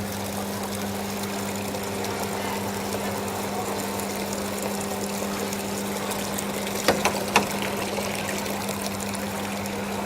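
Water runs through a frozen yogurt machine during cleaning, a steady close pumping and trickling flow with a low mechanical hum and a few brief clicks near the end.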